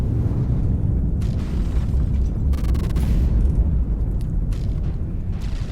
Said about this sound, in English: The second advanced custom cannon turret has been destroyed.